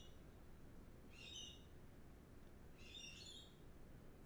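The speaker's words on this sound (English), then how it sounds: "Just like those bloody accursed birds." Two short bursts of high chirping bird calls from the video game Elden Ring, about a second apart, faint over a steady low ambient rumble.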